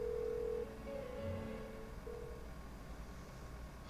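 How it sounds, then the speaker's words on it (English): Phone ringing unanswered in the game Persona 4 Golden, a steady tonal ringback that repeats in short bursts over a low background hum, no voices. "Why won't she pick up the phone?"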